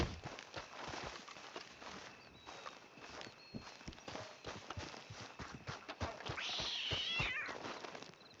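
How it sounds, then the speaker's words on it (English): A cat meows faintly a few times in Red Dead Redemption 2, surrounded by soft hoof clip-clops and footsteps in the game world. "Hey there, puss."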